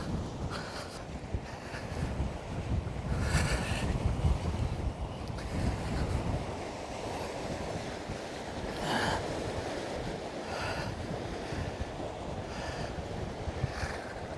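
Icy wind gusting beside a Scottish-style loch with waves rolling in, a steady roar of wind buffeting the microphone over washing surf, continuous and fairly loud throughout.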